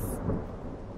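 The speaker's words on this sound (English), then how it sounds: "thought he heard some thunder in the distance" Distant thunder rumbles low and soft in an animated children's cartoon as storm clouds gather, a brief muffled roll with no voices.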